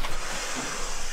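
A person blows hard into an inflatable pool pillow to fill it, a brief, close, breathy rush of air lasting about a second.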